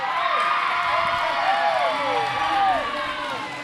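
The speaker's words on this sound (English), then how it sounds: "I'm purposefully not saying anything when the crowd is cheering because you can really hear them" Hometown crowd cheering and whooping at a roller derby bout, a loud sustained roar with rising shouts and skate noise, filling the space with no commentary over it.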